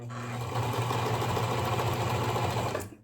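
A sewing machine stitches a seam along the edge of a fabric scrunchie, running in one steady, close whirring drone with a fast mechanical needle rhythm before slowing to a stop.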